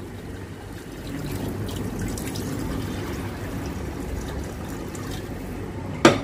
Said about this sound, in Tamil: தேவையான அளவு தண்ணி ஊத்திட்டு